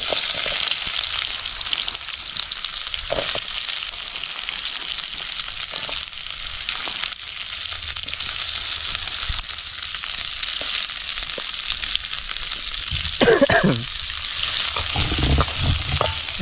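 Onions and fenugreek seeds fry in hot oil as the base of a tilapia fish curry, giving a loud, steady sizzle throughout, with a few stirring scrapes and clatters near the end.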